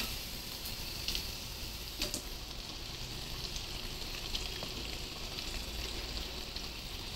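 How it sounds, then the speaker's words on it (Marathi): Sabudana vada deep-frying in oil over medium heat, a constant soft sizzle and crackle with occasional small pops, steady and fairly quiet throughout with no talking. "साबुदाणामध्ये कच्चा राहू नये यासाठी मध्यम आचेवर आपण साबुदाणा वडा तळून घ्यायचा आहे."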